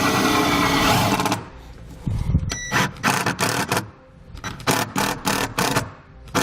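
A cordless drill drives a self-tapping screw into the body panel of a 2019 Subaru, giving a loud whirring burst followed by a series of short, stuttering bursts close by, with no talking.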